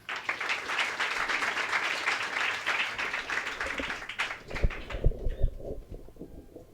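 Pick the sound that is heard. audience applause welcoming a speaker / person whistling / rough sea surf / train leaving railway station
audience applause welcoming a speaker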